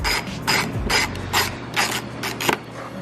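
A socket ratchet wrench clicks in quick repeated bursts of strokes, close and crisp, while working on a Mercedes E55 AMG in a garage; no talking.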